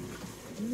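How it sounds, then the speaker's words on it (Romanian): A racing pigeon coos once, low and rising, close and brief against a soft background murmur. "Acest porumbel"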